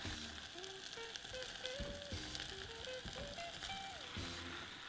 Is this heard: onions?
yes